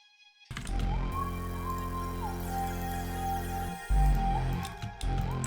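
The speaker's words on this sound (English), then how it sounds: "So I just had this high lead going." A high, sustained synth lead line glides between pitches over a dense, loud backing with a steady low bass, with no voices, in a beat made in FL Studio.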